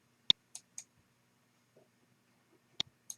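Sharp, dry mouse clicks on a software button in GRASS GIS, heard as a handful of isolated taps spread over a few seconds, close and clean against near silence.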